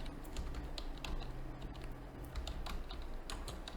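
Quick, light keystrokes on a computer keyboard patter in uneven bursts while code is typed, close and fairly soft, with no voice over them.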